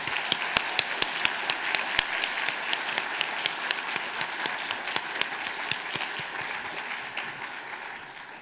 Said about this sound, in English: let's give our jurors a warm round of applause.